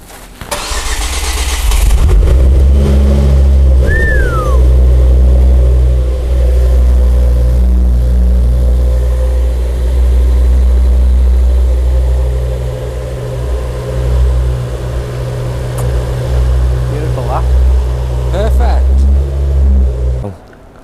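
A rebuilt Ford Focus ST225 engine cranks briefly and catches at once, then settles into a loud, steady idle with a few blips of revving, close by and heard alone.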